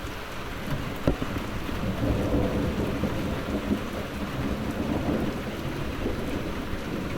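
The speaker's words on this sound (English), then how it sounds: "And the rain continues to increase as well generally." Rain falling steadily during a thunderstorm in northwest England, a constant wash of rain with low rumbles of thunder underneath and no voices.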